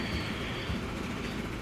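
A train rolls along in the railway simulation game Transport Fever 2, a steady muffled rumble of wheels on track heard at low level without any speech.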